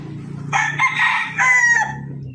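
Chickens crow and cluck close by, a couple of loud rising crows with short clucking between them, heard on their own with no talking.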